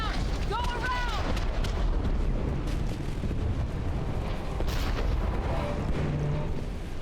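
Grenades explode in the video game Mass Effect 3 as deep, booming blasts amid constant battle noise and gunfire, with a player talking throughout.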